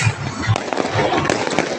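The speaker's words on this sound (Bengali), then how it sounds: "আতসবাজি ফুটাচ্ছেন" New Year's Eve fireworks bursting over Dhaka in quick succession, sharp pops and crackles at varying distances, with voices murmuring in the background.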